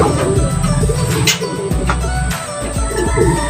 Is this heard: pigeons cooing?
yes